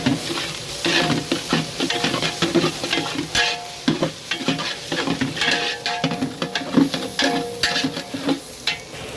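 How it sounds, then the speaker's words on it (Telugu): Ginger garlic paste fries for a restaurant-style masala carrot fry while being stirred continuously, with a dense, loud sizzle under rapid, rhythmic scraping of a spoon against a large pan. "అల్లం వెల్లుల్లి పేస్ట్ పచ్చిదనం అనేది వాసన పోయే వరకు కలుపుకోవాలి."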